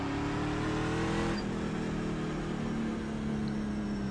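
A NASCAR Class C race car engine at Michigan International Speedway in the iRacing simulator drones at steady high revs, a continuous loud tone that shifts pitch slightly as it holds speed.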